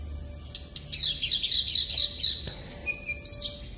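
Birds chirping and singing in quick bright trills, fairly close, with short pauses between phrases and no talking.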